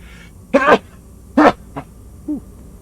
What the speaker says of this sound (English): My wife just sneezed.